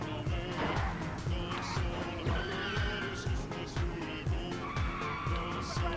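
A car skids in the video game Die Hard Trilogy, sounding as repeated tire squeals and screeches over game engine noise and music-like tones, loud and continuous throughout.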